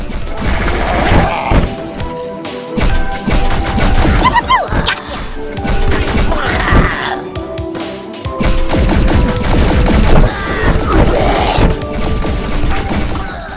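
Rapid video-game gunfire, dense bursts of loud cracks and impacts repeating across the scene in clusters with short gaps, close and harsh, with game effects mixed in.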